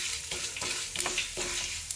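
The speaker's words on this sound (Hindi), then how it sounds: "अब इसमें हम अपना वो पचफोरन डालें" Panch phoron spices sizzling in hot oil for a tomato, onion and garlic chutney, a soft continuous crackle with a few brief stirring scrapes, close but fairly quiet with no voices.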